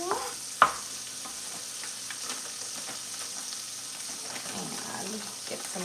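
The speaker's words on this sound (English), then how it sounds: "you've got your meat cooked up, and we'll saute" Beef for a tagine sautés in a pan with a steady, close sizzle and frying hiss throughout, with a single sharp clatter of a utensil near the start.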